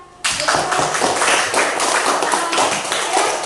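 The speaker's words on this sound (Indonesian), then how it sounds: "Kita tepuk tangan lagi dong." Classroom applause from students, a dense burst of clapping that starts abruptly and holds steady and fairly loud throughout.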